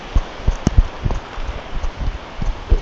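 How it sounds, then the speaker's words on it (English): Heavy rain pours down, a steady close hiss broken by irregular heavier drops thudding nearby on a surface. "It's pouring down now."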